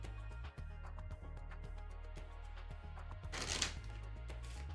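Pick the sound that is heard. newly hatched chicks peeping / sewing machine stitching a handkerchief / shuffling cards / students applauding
shuffling cards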